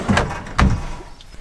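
A large drawer in a camper van cabinet built from birch plywood slides open, two quick thumps of the runners and front about half a second apart, close by with no talk.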